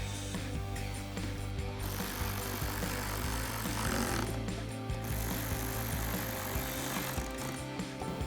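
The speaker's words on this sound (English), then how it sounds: "Grab our ratchet and tighten them down." A ratchet tightens the screws on the trim of a new LED projector headlight for a 2014-2015 Silverado 1500, with steady mechanical working noise, dense clicking and rattling close by that continues throughout.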